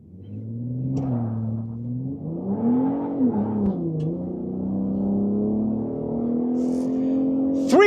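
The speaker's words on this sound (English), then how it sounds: "Let's do a quick launch control." A 2024 Ford F-150 Raptor base trim with a 3.5-liter twin-turbo V6 launches hard from inside the cab, the engine revving and rising through gear changes in a loud, steady climbing roar.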